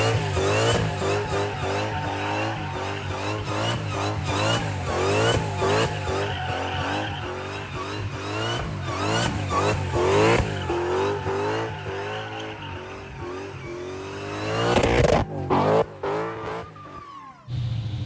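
Hellcat-swapped Nissan 350Z revving hard in repeated bursts as it slides, with long tire squeals rising and falling and a sharp burst of revs near the end.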